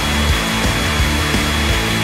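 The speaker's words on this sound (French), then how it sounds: "Comme avec un sèche-cheveux." A handheld hair dryer blowing steadily at close range, a loud broadband whoosh with a low motor hum and faint rhythmic rubbing underneath, used in a home kitchen to heat grains spread on a plate.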